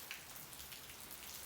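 Rain falls steadily on a cozy rainy day, making a soft, even hiss with faint patters at low volume and no voices.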